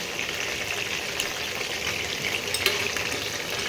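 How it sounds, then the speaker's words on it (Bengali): Chicken pieces frying in a pan for curry give a dense, continuous close sizzle with light crackles and stirring, and no voices. "এইভাবে মাংসগুলো ভেজে নিই।"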